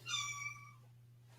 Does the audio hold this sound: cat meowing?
yes